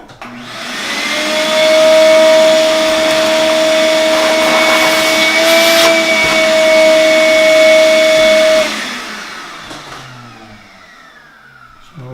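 A shop vac runs at a steady, loud whine with a strong tonal hum while clearing out track installation work, starting up, holding for several seconds, then shutting off and winding down.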